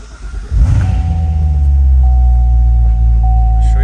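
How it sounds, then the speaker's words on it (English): A 2015 Corvette C7 Z51 2LT with a seven-speed manual and Stage 2 setup starts by push button, catching with a loud burst and then settling into a deep, steady rumbling idle, close up. "I'm gonna go ahead and start up the car."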